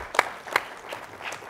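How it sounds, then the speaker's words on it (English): Audience at a University of Chicago Institute of Politics event applauding a guest speaker: a few faint, scattered claps, thin and distant, with no voices over them. "please join me in giving him a warm round of applause"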